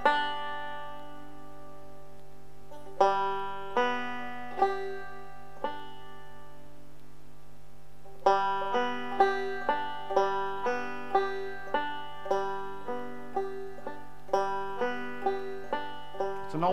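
A banjo picks an alternating roll, starting with a few slow single notes, then settling into a steady, even stream of bright plucked notes over a low sustained drone, clear and close with no voice.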